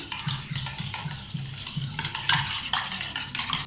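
A utensil whisks beaten egg with turmeric and salt in a bowl, giving quick, steady scraping and clinking strokes close up, with no voices.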